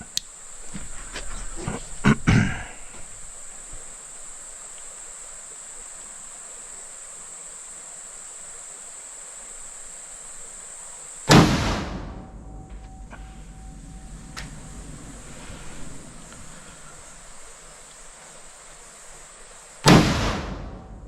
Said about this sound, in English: We'll set the rifle up and we'll put our 2 rounds in and see how we go on target.